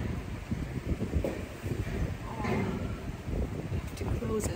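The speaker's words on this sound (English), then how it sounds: "oh, this is so windy" Strong wind gusting around an old wine cellar, a dense continuous roar with buffeting on the microphone that swells and eases throughout, close and loud.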